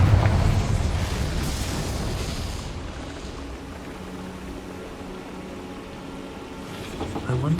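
A Confringo fire-spell explosion in Hogwarts Legacy bursts as a loud, broad rumbling blast that slowly rolls off into a noisy fading tail, with a fresh surge of noise near the end.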